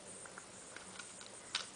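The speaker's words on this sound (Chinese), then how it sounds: "有哦，真的下雨嘞。" Light rain falls in a faint, steady hiss, broken by a few scattered drop ticks and one slightly sharper patter near the end. No one speaks.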